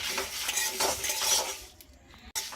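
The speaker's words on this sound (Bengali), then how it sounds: "সব উপকরণগুলো খুব ভালো করে নাড়াচাড়া করে নিচ্ছি।" Whole coriander seeds and spices are stirred in a dry pan for a mango pickle, with a spoon scraping and rattling steadily against the metal for a couple of seconds before fading out with a brief pause.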